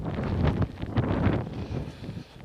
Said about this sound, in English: I'm definitely getting hit from behind, which means the wind in the west is definitely hitting me